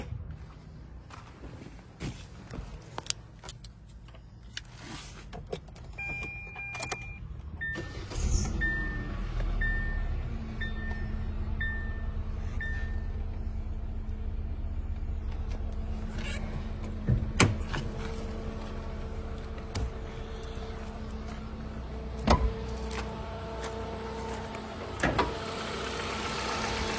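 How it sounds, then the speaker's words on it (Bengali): A 2016 Hyundai car with a 1500cc engine starts after some clicks and rustling, then settles into a steady, smooth low idle that runs on with occasional knocks and handling noises nearby. "আমি গাড়িটি স্টার্ট করছি, আপনারা শুনেন"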